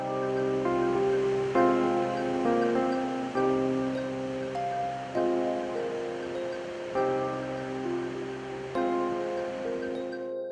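Sea waves breaking on the shore of Ilha Grande, a steady loud wash of surf with a string of swells rising and falling every couple of seconds, heard alone with a faint tonal layer running beneath it.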